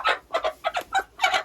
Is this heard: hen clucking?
yes